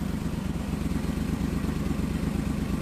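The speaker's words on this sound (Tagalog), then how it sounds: "Palyado pa rin oh. Saka dito sa tambutso, yan oh. Kurog-kurog pa rin." Suzuki K6A engine misfiring, heard at the exhaust: a steady low, rough idle rumble with uneven, stumbling pulses, close and continuous throughout.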